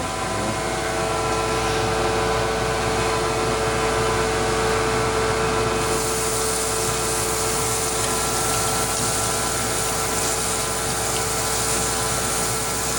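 Outboard engine crankshaft journal being ground with a finish wheel on a grinding machine, a loud, steady whirring drone with constant hiss that holds unbroken throughout, slightly brighter partway through.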